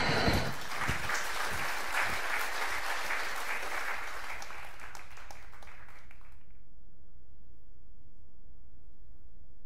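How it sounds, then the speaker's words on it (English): A video game crowd in Puppeteer cheers and applauds in a loud roar of clapping and crowd noise that cuts off abruptly after about six seconds, leaving only quiet background. "a tidal wave of cheering washed over Kutaro"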